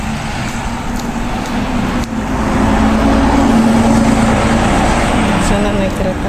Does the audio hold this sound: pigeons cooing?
no